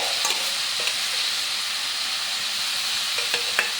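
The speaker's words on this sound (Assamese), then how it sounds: "ৰচুন পিঁয়াজখিনি ভজা হোৱাৰ পিছত এই বইল কৰি ৰখা এই কচুখিনি দি দিম" Boiled taro greens stirred into a pan of fried garlic and onion, a steady close sizzle with the scrape of stirring running throughout, no voices.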